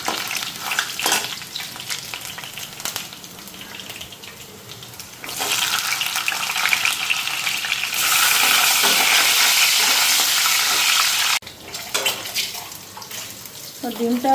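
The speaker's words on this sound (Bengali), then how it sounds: "আলুটা আগে ভেজে নিতেছি, তারপরে ডিমটা দিয়ে দেবো" Potatoes and egg frying in a pan, a broad hissing sizzle that swells loud in the middle and cuts off briefly, with faint kitchen clatter around it.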